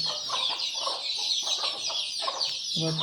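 Free-range village chickens cluck in short, repeated bursts close by, over a constant high hiss of insects, ending on a clearer drawn-out cluck.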